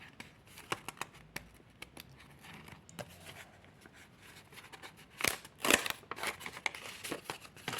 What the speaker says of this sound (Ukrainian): тож почали розпаковувати пакетик